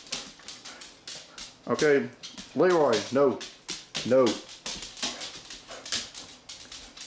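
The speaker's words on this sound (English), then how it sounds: "That black dog is very well behaved." A dog whimpers in high, wavering whines among scattered short noises, while someone speaks over and around it.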